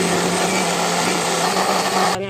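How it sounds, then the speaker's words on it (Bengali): Kitchen blender whirring steadily as it purées carrots with half a cup of milk into a paste, a loud close high-pitched motor drone that stops abruptly at the end. "গাজরগুলো এখন আমি ব্লেন্ডারের মধ্যে দিয়ে একটা পেস্ট তৈরি করে নেব"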